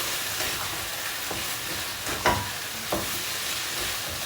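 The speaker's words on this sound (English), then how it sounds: "let this simmer" Sichuan stir fry of broccoli, meat and cashews simmering in a pan, a soft steady sizzle with a few sharp scrapes and pops from stirring.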